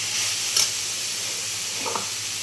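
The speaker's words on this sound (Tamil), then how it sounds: "இந்த வெங்காயம், தக்காளி, இஞ்சி பூண்டு விழுது வதங்கிட்டு இருக்கு" Onion, tomato and ginger-garlic paste sauté in a pan for a quail gravy, a steady soft hiss of frying with a couple of brief spoon scrapes, close and unbroken by speech.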